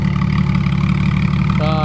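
A 2006 Honda Goldwing GL1800 motor trike with an aftermarket exhaust idles with a deep, steady low rumble, close and constant throughout, with a brief higher tonal sound entering near the end.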